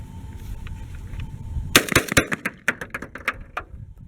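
A Benelli Super Vinci shotgun fires light 2 3/4-inch AA target shells, a quiet lead-in then a rapid string of sharp, loud close shots with quick follow-ups and mechanical clacks, trailing off into scattered reports.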